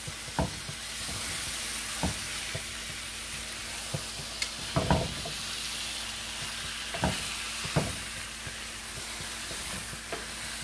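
Masala-coated duck pieces stirred in a pan, a steady low sizzle broken by sharp scraping knocks of the spoon at irregular intervals, close and fairly quiet with no talking.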